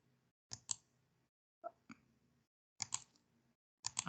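Sharp computer mouse clicks in a quiet room, a few single and double clicks spaced out with gaps of silence, close and fairly soft.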